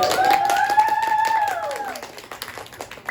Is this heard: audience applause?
yes